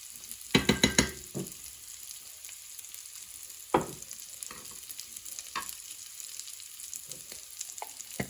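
Oil being spread around a slightly domed frying pan for plant-based chicken pieces, giving a faint continuous sizzle broken by a quick burst of scraping near the start and scattered single utensil scrapes afterward, with no talking.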